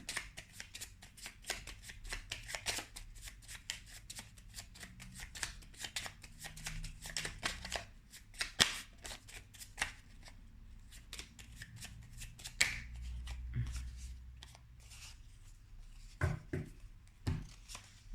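Tarot cards shuffled by hand, quick papery riffles and slides repeating in bursts, close and soft, with a few duller knocks and no speech.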